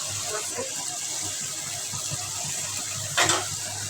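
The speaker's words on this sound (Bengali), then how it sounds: "মশলা কষানো শেষ জল দিয়ে দেবো" Water is poured into spiced curry in a pan, a steady faint rush and sizzle close by, with a brief louder gush of liquid near the end.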